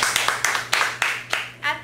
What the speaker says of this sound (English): We applaud to Blake and his efforts as a friend and a student